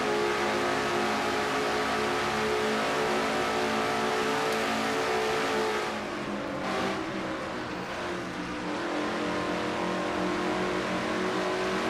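Race cars circle Nashville Super Speedway with loud, continuous engine roar and revving, dipping briefly midway as cars pass, close and without voices.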